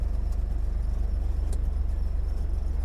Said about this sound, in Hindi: गाड़ी बहुत ही सेफली चढ़ा रहे हैं